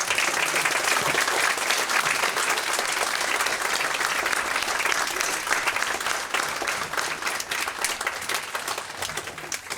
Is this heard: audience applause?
yes